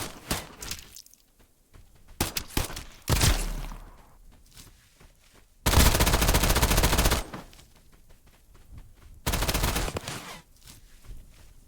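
Electrified-bullet gunfire in the video game Escape from Duckov, loud bursts of rapid automatic fire in several separate volleys, broken up by quieter footsteps and small effects in between.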